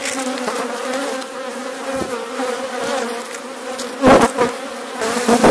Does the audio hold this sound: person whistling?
no